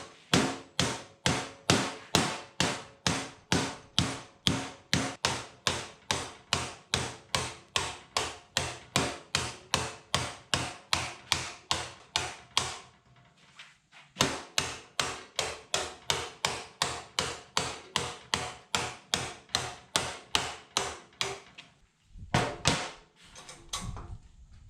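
Steady, evenly spaced hammer blows on clamped sheet metal, bending a 90-degree flange on a bed patch panel for a 1940s Chevy trailer; dozens of sharp ringing strikes with a brief pause midway and a few final taps.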